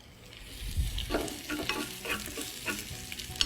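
Shallots, garlic and chili sizzle and crackle in a hot wok as a spatula stirs and scrapes them, close and continuous with light clinks of the spatula on the wok.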